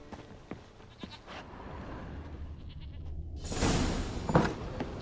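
A goat bleats in The Witcher 3, a drawn-out, wavering call that swells midway over faint background game ambience, with no talking.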